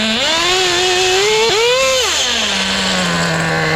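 A Traxxas JATO 3.3 nitro RC car engine, running rich while warming up, screams loudly and close, its pitch climbing, dipping briefly, surging again, then dropping to a steadier lower drone.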